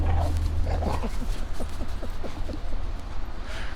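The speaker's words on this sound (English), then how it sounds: "And Marty's humping another dog." A neutered dog humps another dog outdoors in very cold weather, with a series of short rhythmic whimpers and yips repeating over a low background rumble, fairly close, with no talk.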